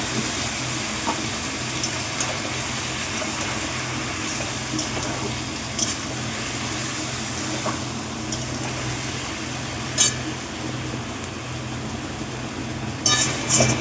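A paste of ground mustard and poppy seeds fries in a pan with a steady, even sizzle that lasts throughout, marked by a few faint scrapes.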